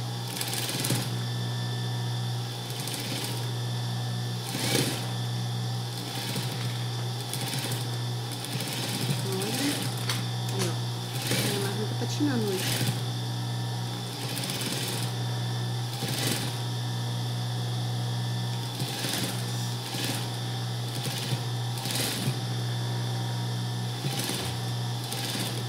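A sewing machine runs steadily throughout while stitching a matching shorts-and-ruffled-blouse set, its whirring drone close and continuous with small mechanical clicks, and someone speaks over it at times.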